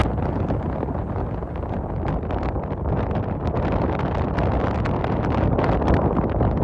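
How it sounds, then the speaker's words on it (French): Strong wind roars and buffets the microphone steadily throughout, a dense, rumbling rush with no breaks and no voices. "il y a tellement de vent"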